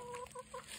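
Farm chickens, including Jersey birds, give three short close clucks in a quick even rhythm over quiet outdoor background.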